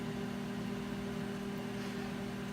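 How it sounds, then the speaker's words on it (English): A microwave oven running on a grilling cycle, giving a steady low hum and fan drone that holds unchanged throughout at a faint, even level. "we're going to put this back in the microwave. Close that door. This time it's going to go for 6 minutes."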